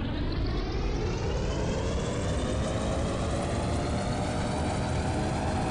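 Engines of a Douglas DB-7 bomber in a flight game run up to full power, a loud, steady droning roar whose pitch climbs slowly throughout, heard alone without talk.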